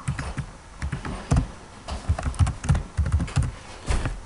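Computer keyboard typing while a community name is entered on a page, a quick irregular run of close, crisp key clicks with short pauses between bursts, no voice over it.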